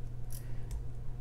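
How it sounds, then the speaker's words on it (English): Scissors or cutters snip excess jewelry wire while a rose bead necklace is assembled, two quick crisp clicks over a low steady background hum, close and brief, with no talking. "I'm going to go ahead and snip the excess right there"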